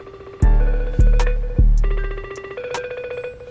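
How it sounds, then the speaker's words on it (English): A telephone ringing on an outgoing call, with loud repeated tones that restart in a regular pattern and a higher electronic ringtone layered in later, no talking. "I'm gonna make some calls right now."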